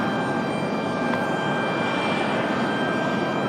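Jet airliner engines roar steadily at Raleigh-Durham International Airport near runway 23 right, a broad, even rush of noise at moderate distance with no talk.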